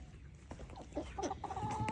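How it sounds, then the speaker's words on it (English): Baby chickens cluck and peep in short, scattered calls nearby over a low outdoor background on a frosty day. "Our baby chickens are running around."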